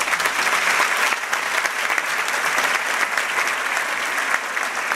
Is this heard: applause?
yes